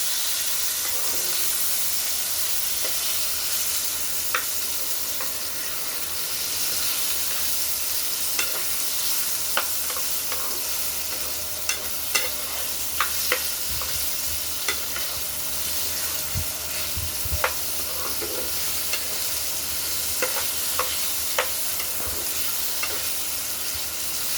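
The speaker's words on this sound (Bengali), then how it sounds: "আলু সিদ্ধ করা হচ্ছে" Potatoes boiling in a pot on a solar-powered stove, a steady hiss and bubbling simmer running throughout, with occasional faint clinks and taps close by; no talking.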